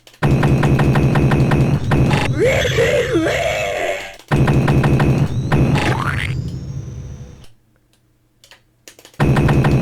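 A machine gun fires in sustained loud rapid bursts in the Christmas video game Xmas Chortles, mixed with electronic game effects and a swooping tone, then cuts to near silence before firing resumes.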